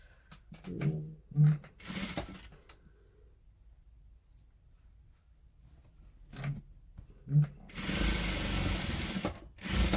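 A sewing machine stitching lace fabric for a gored skirt runs in several short bursts, a few brief runs early and a long loud sustained run near the end, with quiet pauses and small clicks between.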